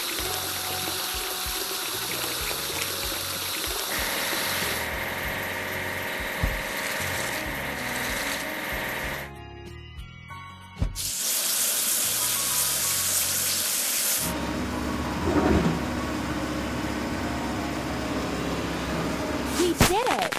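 Water sprays and splashes while a toy-like crane truck is washed in a children's building game, a running hiss with shifting tones, a brief pause midway, then resumed spraying, with cartoon effects and a voice at times.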